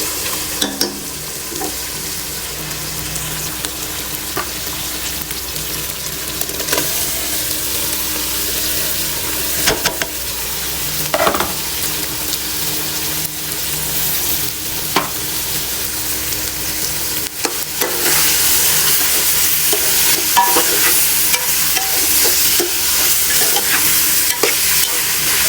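Kachnar buds stir-fried in a hot pan, with coriander added, give a steady loud sizzle broken by repeated scraping strokes of a spatula against the metal, with no talking.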